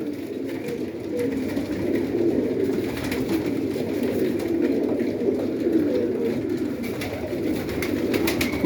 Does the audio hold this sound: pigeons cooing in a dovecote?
yes